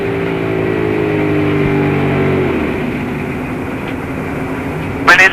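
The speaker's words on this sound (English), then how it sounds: "You'll hear that engine going sour and the radio." Dale Jarrett's race car engine, heard from inside the car, drones steadily with layered harmonic tones for about two and a half seconds, then roughens and fades into a ragged rumble, with a brief loud radio burst near the end.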